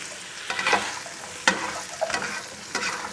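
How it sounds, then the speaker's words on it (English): Seasoned shrimp and onion stir frying in a pan, a soft background sizzle broken by several bursts of scraping and tossing at irregular intervals, close and free of speech. "So we're going to stir fry the onion and the shrimp."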